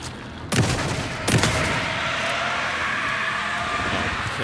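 Gunfire from the video game Alan Wake 2 rings out as two sharp, loud shots about a second apart, each followed by a long, echoing rumble that lingers under a dense, ominous game soundscape.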